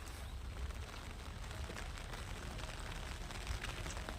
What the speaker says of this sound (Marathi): आता पाऊस सुरूच आहे